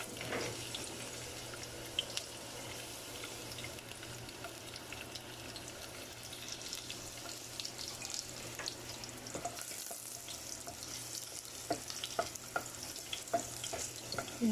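Garlic frying in a modest amount of cooking oil as a base for sautéed saluyot greens, giving a steady, soft sizzle throughout with a few faint clicks and scrapes and no voices.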